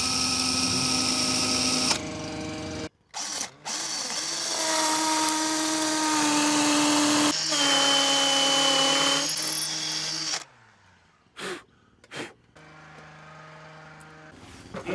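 A power drill bores a screw hole in a self-build house extension, its motor whining steadily for several seconds at a time, with brief stops and restarts and a few short bursts at the end.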